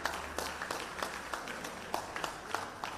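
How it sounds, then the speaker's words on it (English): Sparse applause from the audience at the Indian Restaurant Summit 2023 in Kolkata, a small scattering of claps rising and falling steadily, fairly faint and spread across the room. "A big round of applause, please."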